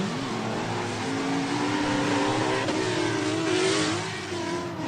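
An S550 Ford Mustang drift car revs hard during a drift series run, its engine screaming at high rpm with wavering pitch, loud and close, with a brief swell of tire noise near the end.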